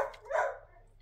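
Dogs barking at home in a quick burst of yips and barks, close and fairly loud, then trailing off into quieter room noise with no talking.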